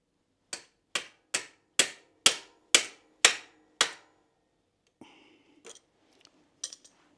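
Eight sharp metallic hammer strikes land in an even rhythm on an e-bike crank, followed by a pause and a few scattered clinks and knocks of metal parts.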